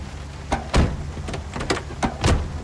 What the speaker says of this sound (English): If you don't hear the door closing thud, it means your door is technically open.